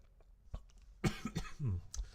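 A few short, rough coughs close to the mic, with faint clicks and a throat-clearing rasp, in a quiet room.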